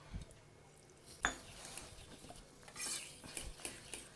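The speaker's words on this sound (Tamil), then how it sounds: "எந்த லம்ஸுமே இல்லாமல் நல்லா இந்த இதை கலக்கியாச்சு" Chicken lollipop batter being mixed in a bowl, soft wet stirring with scattered clinks of a utensil against the bowl and one sharper knock, fairly quiet and close, with no talking.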